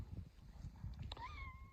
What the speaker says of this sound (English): here's my silly barn cats